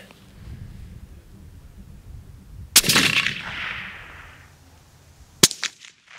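A Savage Stealth Evolution rifle in 6.5 Creedmoor fires at long range, a single loud, sharp crack followed by a rolling echo, then a second sharp report near the end.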